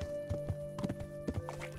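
Horse hooves walking in the Kingdom Come Deliverance video game: a few soft, evenly spaced clip-clops over a steady low hum of game ambience.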